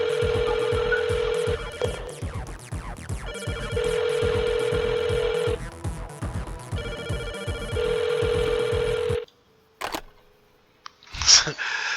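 A cell phone calls a home phone, setting off a repeating electronic ring in steady bursts with short pauses between them. After the ringing stops there are a few brief clicks and knocks.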